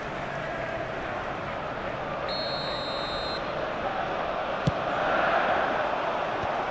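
Stadium football crowd roars and cheers in a broad, sustained wash of noise, swelling louder toward the end, with a sharp whistle-like tone and a brief knock cutting through.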